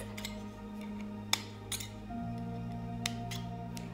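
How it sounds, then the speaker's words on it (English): Scissors snip small slits around the rim of a thin metal candle cup, giving a few sharp, isolated clicks over a steady low background hum. "All you do is you just cut around the rim of the metal into small slits."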